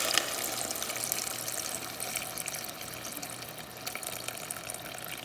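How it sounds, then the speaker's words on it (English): Water runs steadily into a cooking pot of Nigerian okra stew with meat, a continuous, moderately quiet pouring and splashing that lasts throughout with no talking. "Now we're going to add the water."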